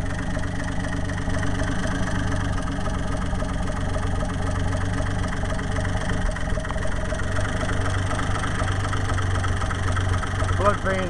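An undertiller outboard motor idles steadily at close range, a constant low throbbing drone with harmonic bands throughout, while a person talks over it.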